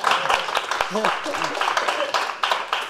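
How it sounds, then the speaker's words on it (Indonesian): Audience clapping at a comedy roast, a scattered patter of hand claps mixed with crowd voices and laughter, moderately loud and close. "Tepuk tangan dulu buat Falcon teman-teman."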